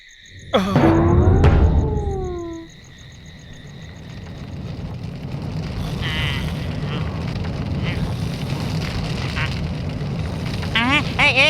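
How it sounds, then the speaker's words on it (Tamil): Cartoon house fire in a 3D kids' animation: a steady, dense crackling roar fills most of the clip, preceded by a loud swoosh with falling tones at the start and a few squeaky bursts near the end. "நெருப்பு பத்திக்கிச்சு, வீடெல்லாம் பத்திக்கிச்சு."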